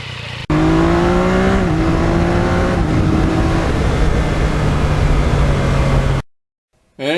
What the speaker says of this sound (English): it's just fun going through the gears with that quick shifter